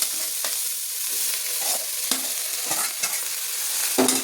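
Steady sizzling of okra sautéing with rock salt in a pan, with repeated scraping and stirring knocks from a spatula at irregular intervals.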